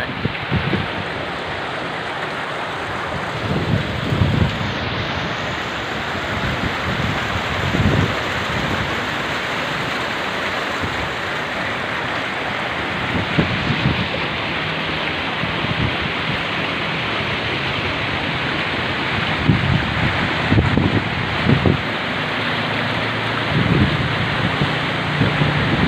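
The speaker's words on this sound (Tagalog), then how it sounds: "Binabagyo na naman kami guys." Typhoon-strength wind and heavy rain roar in a constant dense wash of noise, loud and close, with gusty surges and no voices over the whole stretch.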